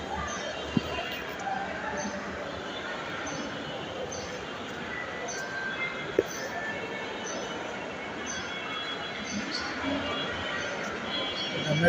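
A Dhaka metro rail train at Uttara North station gives a steady rolling rumble with a few sharp clicks, and voices murmur underneath.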